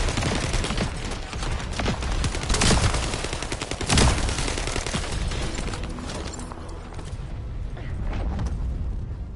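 Gunfire rattles through a firefight in The First Descendant video game, with loud, dense bursts of rapid shots close up and heavy impacts mixed in.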